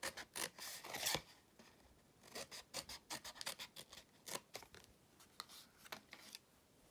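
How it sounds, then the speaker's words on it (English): Paper being cut with scissors along score lines for a Christmas lantern treat box, a steady series of close, rasping snips that come in quick clusters, fairly quiet and heard alone. "Then I'll cut up the remaining of these score lines to that horizontal line."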